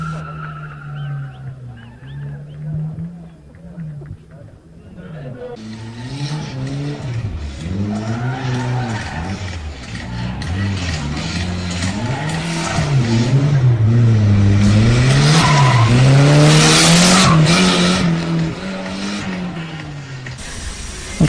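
Drift race cars at a competition event screech their tires in long, wavering squeals over roaring engines, loud and sustained, swelling in intensity toward the end with no talk.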